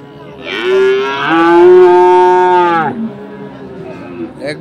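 One loud, close moo from cattle at a crossbred bull market in Ambari, Dinajpur, rising and holding for about two seconds before trailing off into quieter background murmur.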